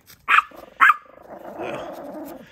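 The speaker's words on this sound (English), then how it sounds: "Well, Porter, you don't need to bark at Frenzy." A dog barks twice in quick, sharp succession close by, then growls and whines more softly for a second or so.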